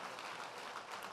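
Audience applause at a church discipleship college graduation ceremony, a steady wash of many hands clapping, fairly faint and distant, with no speech over it.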